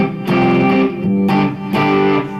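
Clean electric guitar with the volume knob set about halfway, a little amp reverb, struck in three ringing chords that each sustain and decay, loud and alone with no voices.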